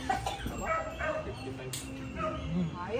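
Small dogs yap and whimper in short, excited bursts, fairly close, with a few sharp barks mixed in.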